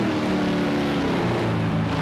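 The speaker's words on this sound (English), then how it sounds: "Listen to the sound of those engines" Several racing car engines roar together in a Project Cars 2 Group 5 race at Raupuna, a dense, steady mechanical drone with layered harmonic tones, loud and continuous with no voices.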